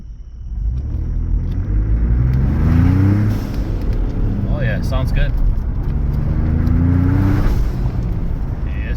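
A Ford Bronco with a DIY turbo blow-off valve, heard from inside with the windows up: a loud engine rumble, two airy whooshes as the throttle lifts, and people talking over it.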